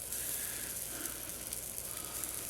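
Chunks of bacon cook in egg batter in a bakoyaki pan, giving a steady, close sizzle with fine crackling and no talk over it.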